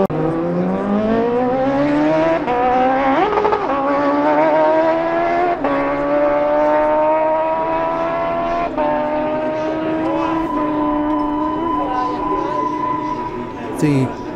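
Racing superbikes, including Kawasakis, roar past at the Classic TT road race, engines loud and close with rising and falling pitch and gear changes, as a commentator's voice runs over them.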